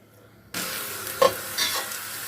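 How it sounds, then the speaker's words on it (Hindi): Finely chopped onion hits about a cup of hot oil for a tadka, bursting into a loud steady sizzle after a quiet start, with a brief stir or clink partway through. "मैंने 1 कप ऑयल डाल दिया और अब मैं जो प्याज था उसे मैंने बारीक काट लिया, वो उसमें डाल दूँगी"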